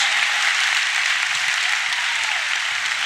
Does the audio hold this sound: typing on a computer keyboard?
no